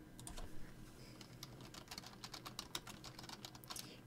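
Quick bursts of keystrokes on a computer keyboard, typed at an irregular pace indoors with no voices.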